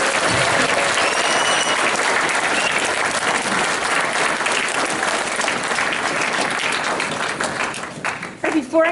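An audience applauds after a school science-fiction play, steady loud clapping that runs on for several seconds before thinning out at the end, with a voice breaking in at the close.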